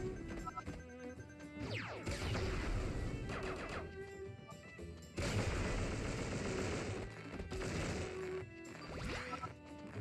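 A cannon in a video game fires repeatedly, each shot a sharp crack trailed by crashing impacts and rumbling debris, fairly faint overall amid a busy game soundscape.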